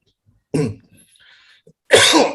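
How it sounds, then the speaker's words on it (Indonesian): A person coughs twice, two loud harsh bursts about a second and a half apart with faint background sound between them. "mohon maaf nih, urusan batuk belum selesai-selesai"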